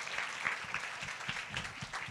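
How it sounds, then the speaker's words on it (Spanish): An audience at a talk on Mexican women entrepreneurs claps steadily in a brief burst of applause, moderately loud and close, with no talking over it. "Yo creo que le podemos dar otro aplauso."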